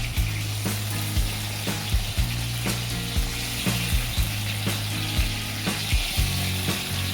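Eggplant frying in oil in a pan for Maharashtrian bharit, a steady close sizzle with regular soft stirring or clinking taps running throughout, no talk.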